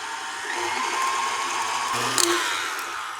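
An electric hand mixer whirs steadily through ricotta cookie dough, a continuous close motor hum lasting the whole stretch with a slight rise in pitch near the end, no voices.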